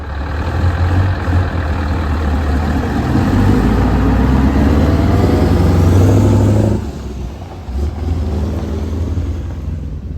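A lorry's diesel engine rumbles loud and close as it pulls away, revving and swelling before dropping off abruptly and fading to a quieter idle-like drone.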